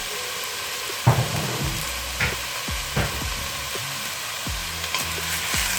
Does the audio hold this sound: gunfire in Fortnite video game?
no